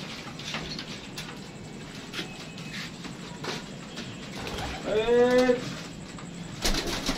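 A male teddy pigeon coos once, a short tonal call rising out of steady background noise and rustling, with a faint clatter near the end.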